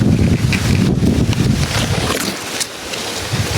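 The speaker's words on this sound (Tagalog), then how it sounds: "lakas ng hangin, parang may bagyo." Strong wind buffets the microphone with a constant low roar and rumble, loud and steady throughout, with no voices.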